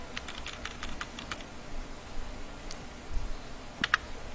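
Typing on a computer keyboard during a live teaching session, with a quick run of close, crisp keystrokes, a pause, then a few scattered clicks and a final sharper tap.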